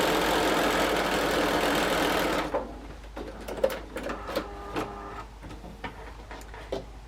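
Sewing machine with a quarter-inch foot chain piecing quilt seams, running as a steady close whir for about two seconds and then stopping, followed by scattered light clicks and handling taps.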